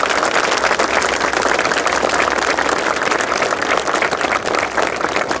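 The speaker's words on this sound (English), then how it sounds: "Can we give them one more round of applause?" Dense, steady applause from a crowd fills the air at an outdoor Pride flag-raising ceremony in Toronto, holding at a loud, even level throughout without any speech.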